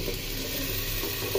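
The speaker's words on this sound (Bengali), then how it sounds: "এই যে পেঁয়াজটা লাল হয়ে গেছে, এখন আমি মাংসটা ঢেলে দিই।" Beef poured into a pan of fried onions sizzling steadily with a close, continuous hiss throughout the short moment.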